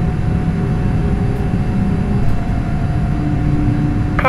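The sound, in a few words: Boeing 747 airliner taxiing to runway, simulated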